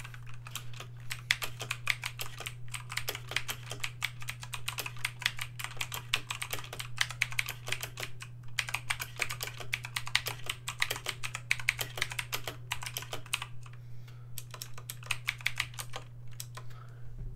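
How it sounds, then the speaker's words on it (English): Fast, steady typing on a new Redragon K552-UK Kumara mechanical keyboard gives dense, rapid clicky keystrokes close up, with brief pauses, over a constant low electrical hum. "Oh, let's type some stuff."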